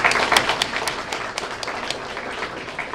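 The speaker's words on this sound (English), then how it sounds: "Give them a great round of applause." Audience applause at a school Student of the Month gathering honoring breakfast sponsors: dense, steady clapping from a crowd of moderate size, sustained through the whole stretch at an even level with scattered sharper claps.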